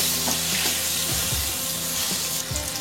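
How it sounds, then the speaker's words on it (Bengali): Potato pieces fry with salt and turmeric in hot oil, a steady loud sizzle with scraping stir strokes throughout, no voices. "এই আলুগুলো এবার নুন হলুদ দিয়ে খুব ভালো করে লাল লাল করে ভেজে নেব"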